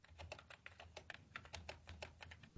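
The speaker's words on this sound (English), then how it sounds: "I'm going to click on my type tool, click in the center here, and let's type something suitable" Rapid typing on a computer keyboard, a quick irregular run of crisp key clicks heard close up and alone for a couple of seconds.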